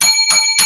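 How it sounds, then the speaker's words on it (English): Three quick, bright bell rings in a row, close and loud, each a short metallic ding with shimmering overtones and no voices around them. "let me start off by having 7 lucky bells for this week's progressive"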